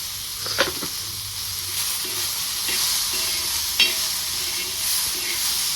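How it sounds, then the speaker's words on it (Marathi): Onion and tomatoes with a little salt fry in a pan for a green chili thecha, a soft continuous sizzle broken by a few sharp scrapes of stirring, close and moderately loud, with no voices. "मी ह्यात टमाटे टाकून घेते"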